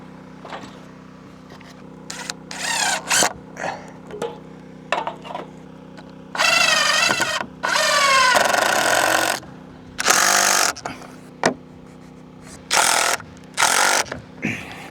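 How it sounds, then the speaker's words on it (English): A power drill bores into a cabin roof in repeated bursts, some short and some running several seconds, close and loud over a steady low hum, with brief clicks and knocks between runs. "We'll have to drill."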